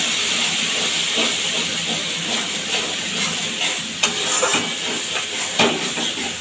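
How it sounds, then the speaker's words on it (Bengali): A paste of chilli, turmeric and salt hits hot oil and sizzles loudly while being fried for a fish curry, a constant close hiss with occasional stirring scrapes and no talk. "এই সময় দিয়ে দেব গুলিয়ে রাখা লঙ্কা হলুদ লবণটা দিয়ে বেশ ভালোভাবে কষিয়ে নেব"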